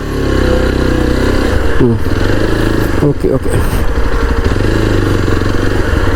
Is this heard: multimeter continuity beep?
no